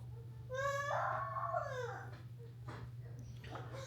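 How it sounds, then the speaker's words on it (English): A puppy whimpers in high, wavering whines, two drawn-out cries close to the mic over a steady low hum, followed by softer rustling. "Cute puppy dog."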